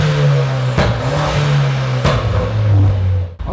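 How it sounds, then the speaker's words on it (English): A Ford Fiesta ST tuned to Stage 2 with a Monsoon exhaust runs loud and close, its engine note blipping up sharply twice in quick revs before settling. "Let me start it up. So you get vacuum and then you get boost, but this car just sounds crazy."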